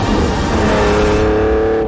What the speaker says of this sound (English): Obviously, still has that engine sound though